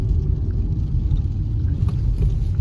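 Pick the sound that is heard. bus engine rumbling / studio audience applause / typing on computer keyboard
bus engine rumbling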